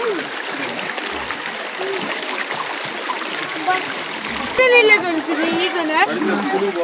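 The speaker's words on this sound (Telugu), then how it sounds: "చూడండి వాటర్ ఫాల్స్" Water rushing and splashing at Penchalakona waterfall, a steady broadband flow heard up close, with a burst of brighter splashing partway through.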